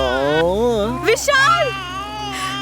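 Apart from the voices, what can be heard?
baby crying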